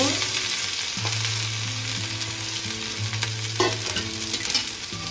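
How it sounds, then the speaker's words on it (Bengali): Steady crackling sizzle of grated ginger frying in hot oil, with occasional stirring scrapes, continuous and close. "এখানে আদা ঘষে নিয়েছি, ওটা দিয়ে দেব।"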